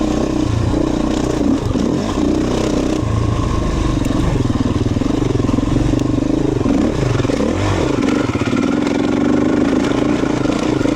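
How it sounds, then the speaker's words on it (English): A Beta 350 RE motorcycle engine lugging in low gear on a single-track trail, a steady loud throbbing drone close to the rider with slight rises and dips in revs and some mechanical clatter, no talk. "I'm just not shifting. I'm letting the bike do its thing."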